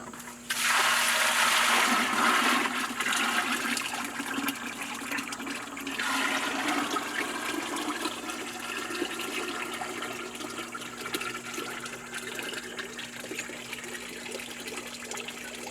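Water is poured from a container onto heavy clay dirt outdoors, making a loud, continuous gushing splash that is strongest at the start and then settles into a steady trickling flow.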